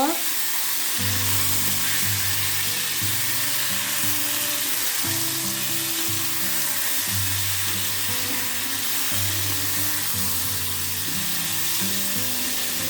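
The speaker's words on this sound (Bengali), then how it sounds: "একটু নেড়ে চেড়ে ভাজা ভাজা করে নেব" Chunks of raw mango frying with salt and turmeric hiss steadily in a pan while being stirred, with a continuous low droning hum running underneath the sizzle throughout.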